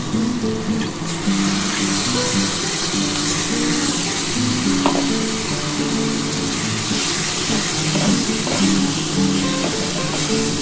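Steady loud sizzling and frying as ground ginger-garlic paste hits fried potato and eggplant in a hot pan for a spicy fish curry, with occasional stirring clinks and scrapes, continuous throughout and without talk.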